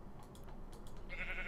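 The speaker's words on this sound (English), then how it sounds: "Oh, sheep, you're going to get it." A Minecraft sheep lets out a short, quiet bleat in a blocky game world, a single brief call standing alone against a soft background.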